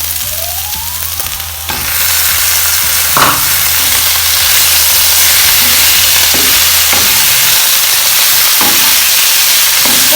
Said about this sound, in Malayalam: ഒന്ന് ഇളക്കാം. നമുക്ക് ചെമ്മീൻ ഉണ്ടാക്കാം.